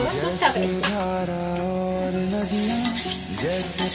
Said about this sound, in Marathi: आता आपण याच्यात थोडं थोडं करून दूध टाकूया थंडवालं आहे फ्रीजमधलं